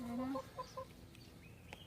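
Chickens cluck in short, close, soft bursts, a few quick calls in succession with quiet farmyard background.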